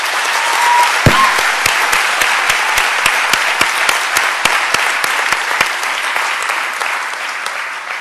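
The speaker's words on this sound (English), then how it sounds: "join me in giving them a well-deserved round of applause" Loud sustained applause from a conference audience on a university campus, thick continuous clapping with a few sharp, close claps punctuating the wash and no speech over it.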